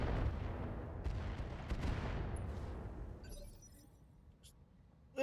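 A barrage of mech weapons fire in a Solaris 7 arena battle, dense rumbling volleys and blasts that thin out into scattered distant pops, ending with one sudden close bang.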